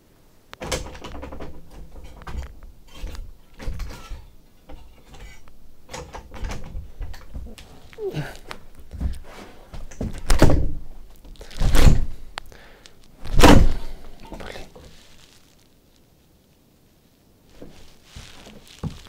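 Someone tries to force open a jammed door, making irregular thumps and rattles. Several heavy, loud bangs land near the middle before it fades to quiet.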